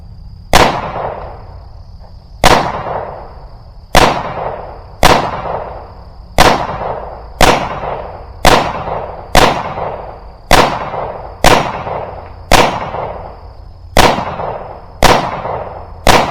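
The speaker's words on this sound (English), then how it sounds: "We're going to go ahead and give some shots down range and see how it does." A Stealth Arms Platypus pistol fires down range: about a dozen sharp, loud single shots spaced one to two seconds apart, each with a ringing tail and no talk.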